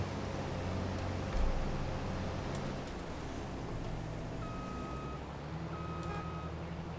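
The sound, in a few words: vehicle horn honking in the video game Farming Simulator 22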